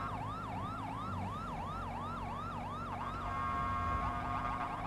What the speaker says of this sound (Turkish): Sireni açtım lan